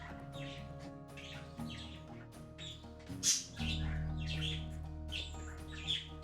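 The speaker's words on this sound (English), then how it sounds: "Bird mad, bird scream." A bird screams and squawks in harsh, shrill bursts, one sharp loud cry standing out, over a constant low hum with no talking.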